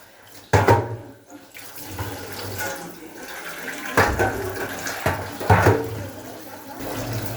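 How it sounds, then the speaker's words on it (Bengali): Water poured from a container onto fish in a cooking pot while making a Bengali fish curry, splashing in a few short bursts against a steady low background hum. "ওই মাছটা আবার এদিকে ঢেলে দেবো একটু জল দিয়ে দিই"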